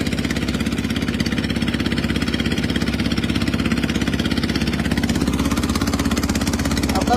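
A trawler boat's engine runs steadily while crossing a wide river. The throbbing mid-pitched drone is loud and close, with an even rapid pulse and no change in speed throughout.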